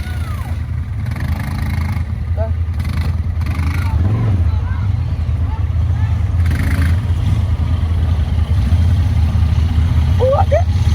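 An ATV engine drones at a steady, low rumble during a night ride in Houston, Texas, loud and close, with occasional voices and faint shouts over the motor.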